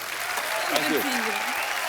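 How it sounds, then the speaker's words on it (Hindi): A studio audience on a Hindi comedy talk show bursts into loud, sustained applause, a dense wash of clapping with a voice rising briefly through it. "जोरदार तालियां"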